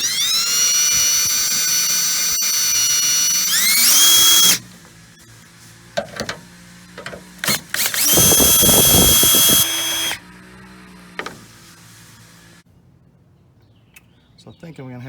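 Power tool with a 10mm socket spinning out headlight mounting screws on a 2007-2013 Chevrolet Silverado, two loud high-pitched whirring bursts separated by clicks and handling noises, then quieter rattles.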